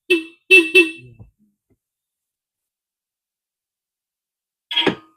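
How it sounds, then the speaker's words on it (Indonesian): Three short honks of a motorcycle horn in quick succession, then silence, then one more brief honk a few seconds later, close and clear. "Lah itu bunyi klaksonnya."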